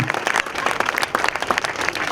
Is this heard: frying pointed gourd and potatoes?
no